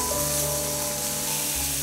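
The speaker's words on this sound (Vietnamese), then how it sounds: "Có nghĩa là thịt bò này chúng ta chỉ chiên sơ qua thôi quý vị." Beef pan-seared in hot oil gives off a dense, continuous sizzle and crackle close to the pan, steady throughout with no speech over it.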